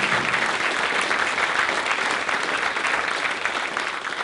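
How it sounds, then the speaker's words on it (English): Dense, even applause from an audience at a Welsh ornithology conference, honouring BTO Marsh Award winners, sustained and close without a break. "And I think a round of applause."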